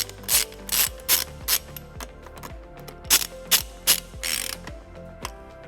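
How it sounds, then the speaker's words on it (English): A ratchet with a 10mm socket tightens a screw while a trailer wiring harness is fitted to a 2016 Toyota RAV4, bursts of close, loud clicking in a quick repeated rhythm with short pauses between strokes. "then we'll tighten it using a 10mm socket."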